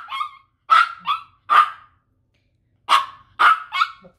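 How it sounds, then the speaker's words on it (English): A dog barks in short, sharp bursts, two clusters of about three barks each separated by a brief pause, close and clear against a quiet background. "No barking."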